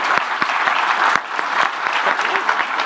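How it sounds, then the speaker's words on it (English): A conference audience at an Ekahau Wi-Fi Design Day event breaks into steady, dense applause, many hands clapping together with a few louder individual claps standing out. "Can everyone just please join me in giving Jiri a huge round of applause?"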